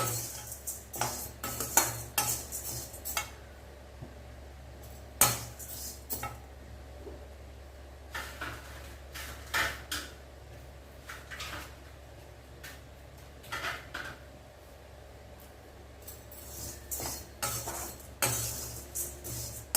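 Dry spices such as chillies and coarse salt being stirred in a pan, giving irregular scraping and clinking taps of a utensil against metal at close range, with no voices.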